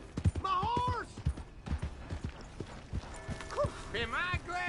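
Horse hooves clip-clopping in Red Dead Redemption II, a quick run of close, thudding hoof beats with a horse snort, mixed with game voices talking over them.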